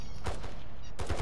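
Gunfire in Call of Duty arrives as two short bursts of rapid shots, the first near the start and a heavier cluster toward the end, with quieter ambient noise between them.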